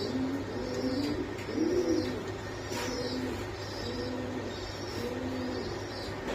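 Damascene pigeons coo in a steady, repeating rhythm close by, soft throaty calls recurring every second or so with faint background hum.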